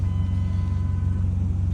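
A 2001 Dodge Dakota pickup with 109,822 miles, a new serpentine belt and a new tensioner pulley idles close by with a smooth, steady low rumble.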